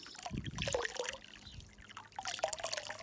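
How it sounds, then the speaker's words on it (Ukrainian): Hot water trickling out of a roof gutter downpipe into a garden reservoir for watering, a soft continuous dribble with small splashes, fairly close and moderately quiet, with no talk. "вода тече, але ще вся не витекла і ще тільки гарячіше пішла"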